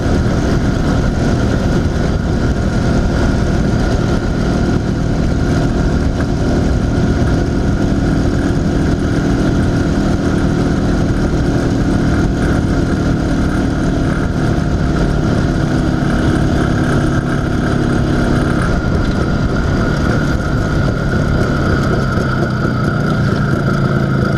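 An IZh Planeta 5 motorcycle engine, recently fitted with a new crankshaft seal, runs steadily while riding on a road, a loud continuous close drone with a constant engine note and no talk over it.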